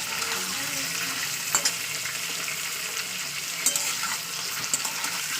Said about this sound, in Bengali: ভালো করে চিকেনটাকে ফ্রাই করে নেবো